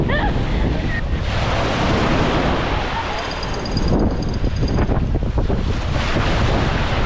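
Strong wind in Boracay roars and buffets the microphone continuously, with a broad rushing noise that stays loud throughout.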